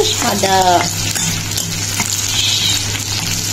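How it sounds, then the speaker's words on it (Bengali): Egg fries in a pan with a little onion and a bay leaf, a loud steady sizzle with brisk scraping stirs near the start, plus a brief squeaky sound early on and no speech. "ভেজে তারপরে এইভাবে ভুনা করার জন্য আমি হালকা অল্প একটু পেঁয়াজ আর একটা তেজপাতা আর কি দিয়েছি"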